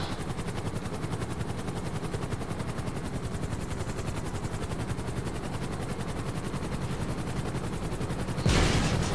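Helicopters racing in a video game give off a loud, continuous rapid rotor chop with a dense, machine-gun-like beat, then a sudden burst of noise near the end.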